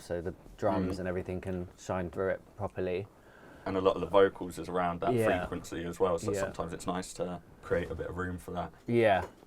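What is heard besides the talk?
None of the usual background noises is heard.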